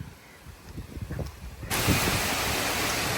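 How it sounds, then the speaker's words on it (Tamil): Strong wind gusts during a rainstorm rumble and roar close to the microphone, building in the first seconds and then jumping to a steady, loud broadband rush that continues to the end. "காத்தான காற்று, மழை வந்து கம்மி தான், ஆனால் காற்று சரியான காற்று."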